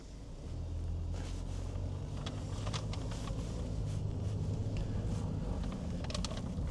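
A 1998 Toyota Hiace 4WD van driving along, steady low engine and road drone heard from inside, with faint intermittent rattles and clicks, no talk.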